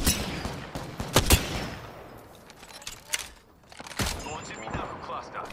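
Gunfire in the Apex Legends battle royale game, several sharp bursts of shots near the start and scattered cracks later, mixed with game sounds and some voice.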